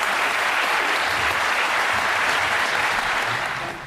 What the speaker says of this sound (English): So please give all of yourselves a round of applause.